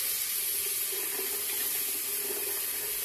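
A tap pours warm water continuously over a synthetic ruby being rinsed before first use, a steady close hiss and splash in a sink with no voices.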